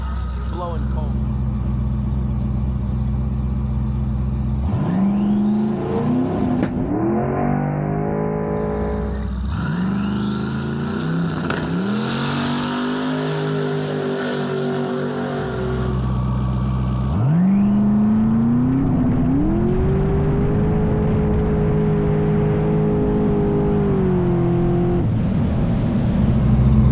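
A twin-turbo Dodge Demon accelerates hard through its gears, the engine note climbing in repeated rising sweeps with breaks at each shift, loud and close throughout, with someone talking over it.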